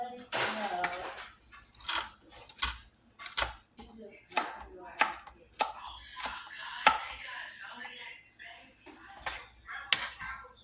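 A knife chops celery stalks finely on a cutting board, making a series of sharp, irregular knocks and clatters spread across the whole stretch, with some quiet speech in between.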